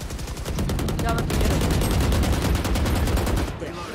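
Dense, rapid automatic gunfire from the video game Valorant rattles almost nonstop for about three and a half seconds, loud and close, before cutting off.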